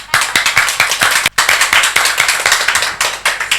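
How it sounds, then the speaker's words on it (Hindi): A small audience claps in a quick, uneven burst of sharp individual hand slaps, close and loud, with one brief pause before the clapping resumes and continues steadily. "आपकी तालियों में कंजूसी थी।"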